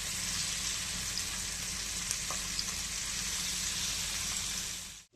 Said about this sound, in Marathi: इथे बघा आपण सर्व निवट्या अशा तव्यावरती ठेवून घेतलेल्या आहेत आणि आपण एका बाजूने चांगले फ्राय करून घ्यायचे